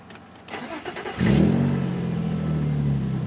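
A car engine cranks with a few rapid starter clicks and whirs, then catches and settles into a strong, steady idle with a low hum, close and loud throughout.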